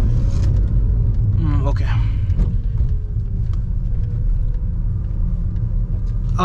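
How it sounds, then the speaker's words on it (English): A BMW 320d accelerating hard in sport mode gives a loud, steady low engine and road rumble throughout, with a brief spoken word early on over the drone. "I just normally floored the accelerator, and the performance is insane"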